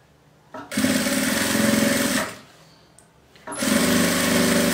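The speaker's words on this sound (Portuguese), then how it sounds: "eu vou costurar a última tira aqui" A sewing machine stitches the last fabric strip onto a scrap-fabric rug, running loud and close in two long bursts separated by a brief pause.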